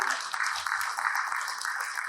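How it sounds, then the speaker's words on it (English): Lecture audience applauding, a steady faint patter of many hands clapping at a moderate distance, continuous and even for the whole stretch. "Let's give a big round of applause"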